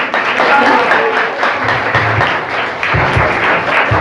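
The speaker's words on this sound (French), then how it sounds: "Applaudissez." An audience at a slam poetry and music show applauds and cheers, a loud, sustained crowd clapping with voices and low hum beneath, steady for several seconds.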